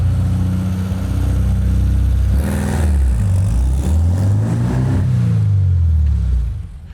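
1952 MG TD kit car revving hard for a burnout attempt, a loud close engine roar with repeated rising and falling revs and slipping-clutch surges before it dies away at the end.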